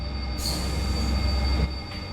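A train in Train Sim World comes to an emergency stop on the Dutch Zwolle–Groningen line, with a loud continuous rumble and a high steady wheel squeal over it.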